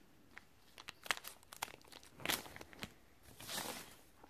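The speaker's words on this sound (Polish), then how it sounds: "Tutaj chyba muszą wkroczyć do akcji nożyczki." Scissors cutting open a crinkly plastic toy surprise sachet, a faint series of close crinkles, snips and tearing rustles.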